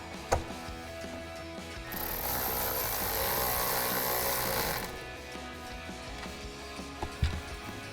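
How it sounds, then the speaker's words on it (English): A hand ratchet fitted with a T40 Torx socket tightens a taillight bolt on a Jeep Wrangler JL, giving a few close mechanical clicks amid workshop noise, plus a steady hiss in the middle stretch. "grab our ratchet with our T40 torque socket and tighten that down"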